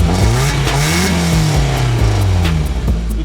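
A 1.8 petrol Audi A4 B5 with 125 horsepower and 130,000 kilometres on it, its exhaust revving loudly up and down in close, rising and falling sweeps.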